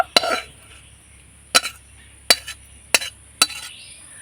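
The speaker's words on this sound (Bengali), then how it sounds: "তো পুরটাকে আমি একটা বাটির মধ্যে ঢেলে নেব।" Sharp metal spoon clinks against a pan or bowl, five distinct taps spaced irregularly, as cooked pea filling for matar puri is transferred into a bowl in a quiet kitchen.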